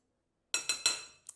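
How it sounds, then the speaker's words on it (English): Dry ingredients with salt being whisked in a bowl, three quick metallic clinks in succession followed by a softer fourth tap, close and fairly quiet. "we're just going to whisk this together"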